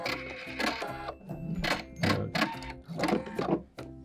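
A sewing machine runs stitches along a cloth napkin, its close mechanical hum and rapid needle clatter coming in several bursts with short pauses between them.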